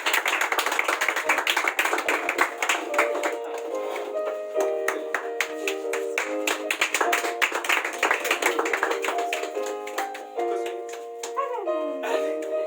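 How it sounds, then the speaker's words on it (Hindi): An audience claps for a student called onto a stage, dense continuous applause heard close and loud, with music playing underneath. "इनके जोर तालियां।"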